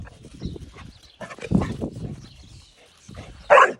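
A dog gives a few sharp, close barks scattered among shuffling and movement sounds, ending with one louder, higher bark.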